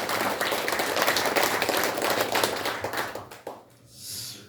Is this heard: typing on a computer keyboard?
no